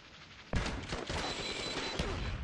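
Gunfire from Call of Duty: Black Ops Declassified erupts abruptly after a half-second of near-silence, a dense rattling fusillade of rapid shots that holds steady with one louder burst near the end.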